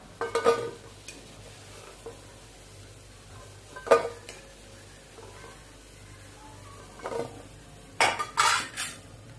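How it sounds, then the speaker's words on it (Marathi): Fried cabbage manchurian lifted out of a pan of hot oil, with a few sharp metal clinks and scrapes of a utensil against the pan at irregular intervals over a quiet hiss. "मध्यम गॅसवर आपण मंचुरियन तळून घेतलेलं आहे ते आता आपण काढून घेऊया"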